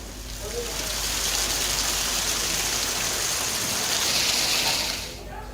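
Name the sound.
heavy continuous rain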